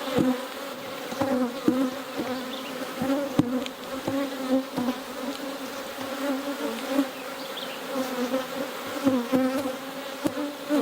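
Honey bees swarm and buzz around an open hive being inspected by a beekeeper, a dense steady drone with scattered louder passes close by, no talking.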